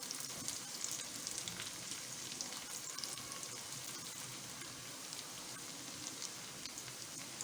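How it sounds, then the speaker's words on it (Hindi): Garlic frying in hot oil with a steady, crackling sizzle, continuous and close, with no talking. "लहसुन ज़रा अच्छी तरह से फ्राई हो जाएगा"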